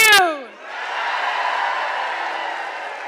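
A crowd at a political rally in Edmonton lets out a quick rising whoop, then breaks into steady, sustained applause and cheering that holds at an even level to the end.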